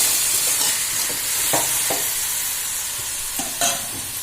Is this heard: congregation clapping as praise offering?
no